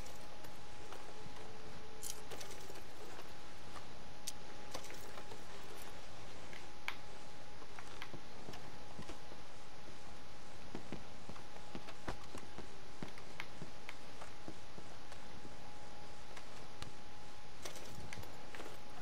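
In Red Dead Redemption 2, a pair of riders' horses clip-clop at a walk. The hoofbeats are quiet, crisp and evenly spaced against a soft ambient background.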